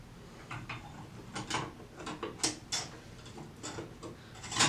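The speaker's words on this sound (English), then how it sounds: "So now my clamp goes back on." A metal clamp being fitted back onto a valve during a valve replacement, with a series of small close clicks, taps and scraping mechanical sounds, irregular and fairly quiet, ending in a sharper knock.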